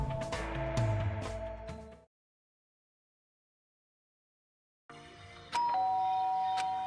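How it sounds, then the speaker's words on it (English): A doorbell chimes in the Danganronpa 2 video game: a bright ding-dong tone breaks off into a few seconds of silence, then a single clear chime rings out again, loud and close. "Ding dong, the doorbell."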